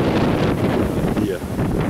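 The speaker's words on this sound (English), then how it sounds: "how much that Mini Winnie shakes in this gusting wind" Gusting storm wind buffets a Mini Winnie motorhome in Laughlin, Nevada, a loud continuous roar with rumbling microphone wind noise that rises and falls throughout.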